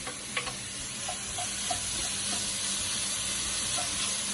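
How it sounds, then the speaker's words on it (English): Ground beef sizzles steadily in a hot pot, a constant close frying hiss with a few faint ticks and pops and no talking. "So to our hot pan, we're gonna add ground beef."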